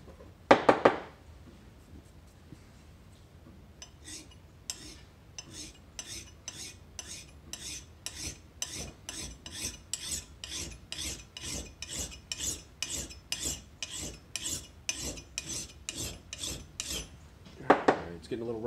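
A hand file rasps across the steel of an antique Hults Bruk axe head in a rapid, even series of close scraping strokes, with a couple of louder scrapes at the start and near the end.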